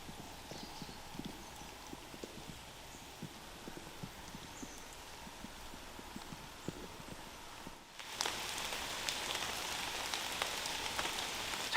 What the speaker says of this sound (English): Hunkering under this horse chestnut tree at the moment to get out of the worst of the rain